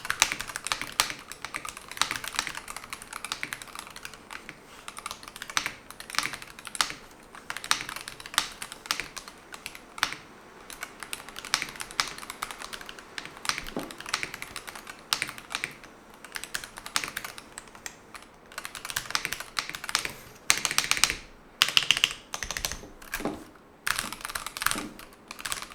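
Someone types on a Yunzii RT75 75% Hall effect gaming keyboard, with rapid uneven bursts of crisp key clacks and pauses between runs, close and clear with no talking.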